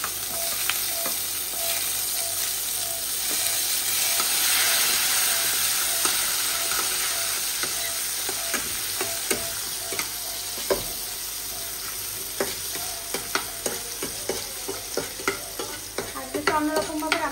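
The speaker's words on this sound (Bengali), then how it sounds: "দিয়ে দেবো পেঁয়াজ কুচি।" Chopped onions fry and get stirred in a pan, a continuous close sizzle punctuated by frequent scraping and clacking strokes of a spatula, with no voices.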